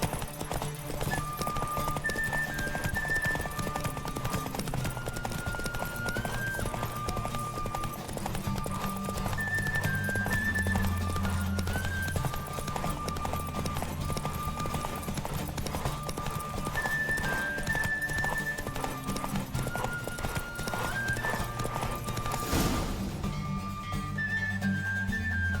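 Galloping horse in a race in The Witcher 3 video game, with rapid, steady hoofbeats pounding continuously over a melodic game soundtrack, a brief neigh and a sharp burst near the end.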